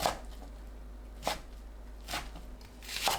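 Knife slicing bundled mustard greens into short lengths on a cutting board, a few separate crisp cuts, close and fairly quiet over a low steady hum.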